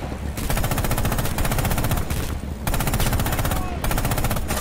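Machine gun fire rattles in the tank combat game Panzer In The Mist: loud, rapid bursts of shots with short pauses between them, close and continuous over several seconds.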